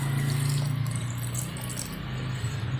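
Water poured from a tumbler into a pot while making a healthy soup, a steady close rushing flow that fills the whole stretch, alone without speech.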